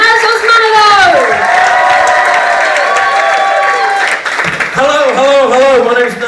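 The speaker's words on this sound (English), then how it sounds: "start whooping, start cheering, start clapping." A comedy club audience whoops, cheers and claps loudly for a stand-up comedian, with rising shouts over a continuous wash of applause.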